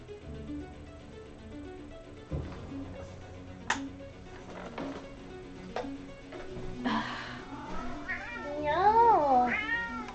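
A cat meows in several drawn-out, wavering cries that grow louder toward the end, close by, with scattered soft knocks and rustles in a room where someone is sewing.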